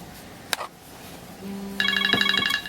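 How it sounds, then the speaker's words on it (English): Mobile phone ringtone for an incoming call chimes in repeated bright bursts, starting after a few scattered clicks and continuing steadily to the end, with no talking. "Sorry, I'm getting a phone call."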